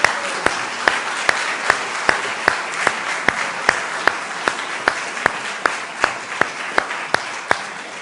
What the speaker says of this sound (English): let's just give her another round of applause.